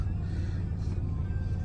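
A 2008 Jaguar XF 2.7d diesel, premium luxury automatic, idles after start-up with a steady, even low rumble, close and continuous, with no revving.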